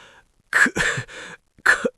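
A sick, frail man in a palace bedchamber gives a dry, painful cough: a faint rasp, then a close burst of several harsh hacks, a pause, and one final hack.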